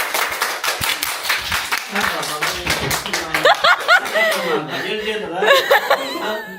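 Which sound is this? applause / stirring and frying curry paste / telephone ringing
applause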